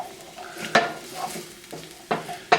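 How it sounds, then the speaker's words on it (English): Aromatics including ginger stirred in a hot pan, a soft sizzle underneath with sharp scrapes and clinks of a utensil against the pan at irregular moments. "we're just gonna stir these up till they get a little aromatic"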